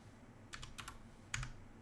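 Two short bursts of keystrokes on a computer keyboard, quiet and close, a quick cluster of taps followed by a brief pause and a second flurry.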